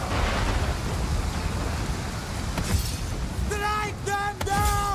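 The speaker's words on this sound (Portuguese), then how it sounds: "essa chuvarada, essa trovoada é prejudicial pra caramba" Rain and thunderstorm in the video game Total War: Pharaoh Dynasties, a steady hiss of heavy rain with a thunder crack near the middle, joined by tonal game effects toward the end.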